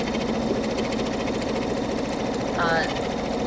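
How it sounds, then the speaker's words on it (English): A Brother NQ3550W embroidery machine stitches a dense lace design with a loud, steady, rapid mechanical whirring close by, plus a brief higher chirp near the end. "Lace designs are very, very stitch intensive, so it's a little noisier than the other design"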